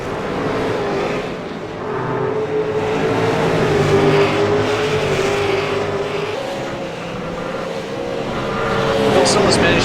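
Race cars lap the Oran Park circuit in a V8 series round, a steady engine drone rising and falling over about ten seconds while a commentator talks throughout.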